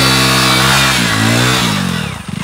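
A motorcycle engine revs loudly and close by, rising in pitch and then falling away as the throttle drops, with no talking over it.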